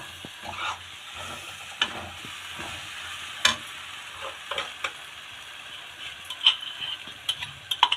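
Masala for white chole aloo fries in a pan while being stirred, a soft steady sizzle with intermittent clicks and scrapes of the spoon, fairly quiet and close.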